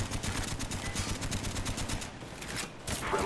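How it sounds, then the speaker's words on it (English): Rapid automatic gunfire from a video game team deathmatch on a firing range map, dense bursts of loud shots rattling continuously through the whole stretch with no pauses. "They were just shooting."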